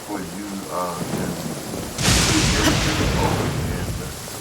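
Thunderstorm in the video game Genshin Impact: a rumbling thunder crack bursts in midway and leaves steady rain on surfaces behind it, with a voice heard briefly before the strike.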